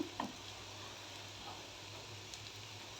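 Bottle gourd cutlets frying in a pan give a faint, steady sizzle throughout, with a couple of light clinks near the start.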